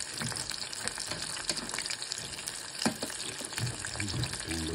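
Shrimp and duck lumpia fry in hot oil with a dense, steady sizzle and crackle, heard up close. Occasional stirring adds small bumps in the noise.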